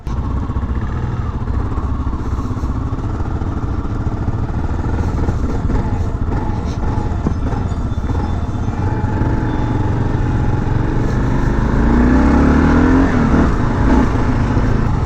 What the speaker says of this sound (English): he couldn't just buy a new KLR and then not at least run it around the block